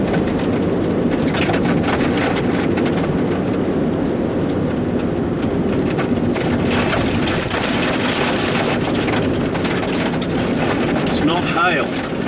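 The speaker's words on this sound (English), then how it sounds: "It's not hail. It's grit on the road." Continuous gritty pattering of road grit against a car body over a steady road rumble, dense and unbroken throughout, on the road between Arthur's Pass and Otira.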